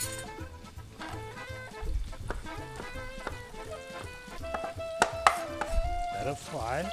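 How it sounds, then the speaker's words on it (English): A knife chops a giant tomato on a board, giving steady close taps under background music, with a few sharper clicks near the end. "I will cut some giant tomato."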